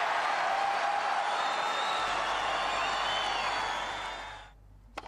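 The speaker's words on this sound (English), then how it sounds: "But roared on by the home crowd, Fire saved all three of those breakpoints." A home crowd at an ATP tennis match roars steadily in a broad, sustained wash of noise that fades away near the end.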